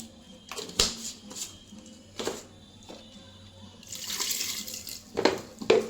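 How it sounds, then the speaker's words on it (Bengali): Water splashes and pours onto chopped banana flower in a cooking pot in a village kitchen, short irregular bursts of trickling and sloshing, with a longer pour near the end. "একটু জল দিলাম একটু লবণ দিব"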